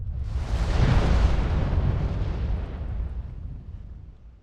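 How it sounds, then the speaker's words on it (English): A volcanic eruption explosion booms out as one deep, roaring blast that swells over the first second, then rumbles and slowly fades over about four seconds. "the magma will erupt out to the surface in a fiery explosion of gas, ash, smoke, and lava"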